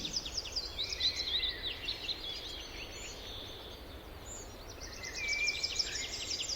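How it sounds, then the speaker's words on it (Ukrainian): Spring birds sing in quick high chirps and twittering trills, several calls overlapping in bursts at the start and end, faint and airy over a soft background. "Послухайте, дітки, як радіють весні птахи."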